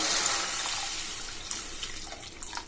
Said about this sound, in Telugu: ఆ తర్వాత వాటర్ వేసుకోవాలి